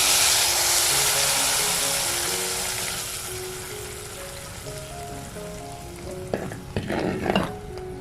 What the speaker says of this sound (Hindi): ये गरम जो तड़का है ये जब घड़ी पे जाता है इसकी आवाज़ उफ